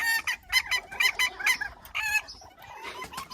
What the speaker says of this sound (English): Now, I have roosters.